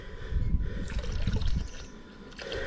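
Spa cleaning liquid from a one-litre bottle pours into an inflatable Lay-Z-Spa hot tub, a steady glugging trickle of liquid splashing into water close by, with no talk.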